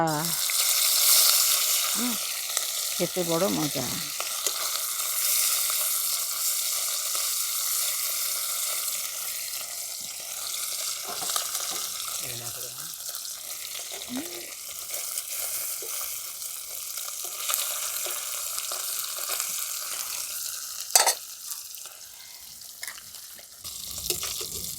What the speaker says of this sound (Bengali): এবারে আমি যে বেছে ধুয়ে পরিষ্কার করে নুন হলুদ মাখিয়ে রেখেছিলাম পুঁটি মাছগুলো ভেজে নেব।